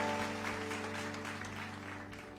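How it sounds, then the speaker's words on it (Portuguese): A church congregation applauds in a steady wash of clapping, moderately distant and gradually fading, over a low sustained musical hum. "Que você possa aplaudir o nome do Senhor Jesus nessa noite"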